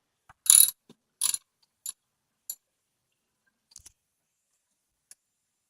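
A ratchet wrench backing out a 10mm bolt, a few sharp clicking bursts up close followed by sparser, fainter single ticks with quiet gaps between.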